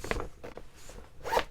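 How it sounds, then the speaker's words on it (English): A zipper on a newly unboxed WISKF product is pulled open in a few quick, close rasping strokes, the last and loudest coming at the end. "great quality zipper."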